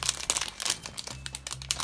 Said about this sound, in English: Mario Lego blind bags to open and see what's inside